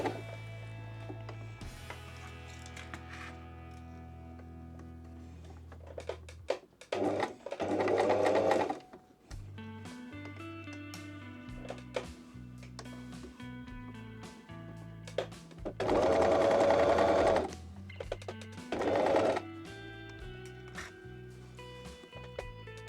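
Sewing machine stitching a dart on pants, running in several separate bursts of steady mechanical whirring with pauses between, close and clear with no talking.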